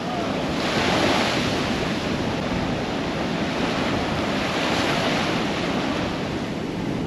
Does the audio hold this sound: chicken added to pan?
no